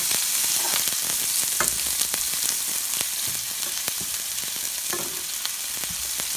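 Onions sizzle steadily while sautéing in a hot pan for collard greens, a constant loud hiss with occasional crackles and pops close to the microphone.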